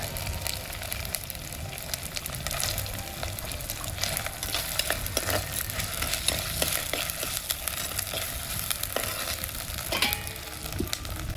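Sliced shallots sizzle and crackle steadily in hot oil while being stirred now and then with scraping clinks, close and continuous throughout, cooked for a village-style country chicken soup.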